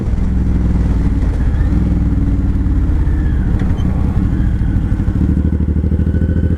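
A Suzuki M109R Boulevard cruiser motorcycle roars steadily on a test ride, its big V-twin engine loud and close with a continuous deep rumble and throttle surges throughout.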